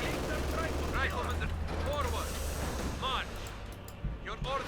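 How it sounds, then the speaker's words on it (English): An artillery barrage in Company of Heroes 2 sounds as a dense, continuous roar of distant blasts and rumbling, with whistling shells arcing in every second or so. "let's barrage this area here"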